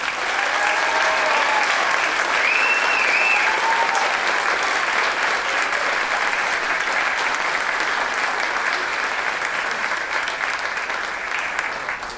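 Sustained audience applause at a 2022 high school senior awards ceremony for letter winners, steady dense clapping from a large crowd filling the room for about twelve seconds before tapering slightly at the end.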